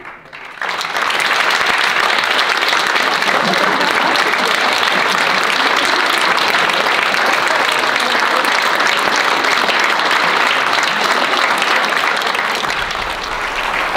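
Steady, dense applause from an indoor audience greeting a folk dance group at a dance school's mid-year show, loud and continuous for the whole stretch with no speech over it.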